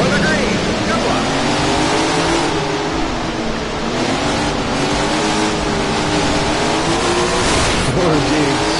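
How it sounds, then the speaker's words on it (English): Sprint car engines roar together in the All Star Sprint Car Series racing game as the field rolls toward the start at Roper Mountain, a dense, continuous loud drone with wavering pitch throughout. "Listen to these engines roar as they roll to the line."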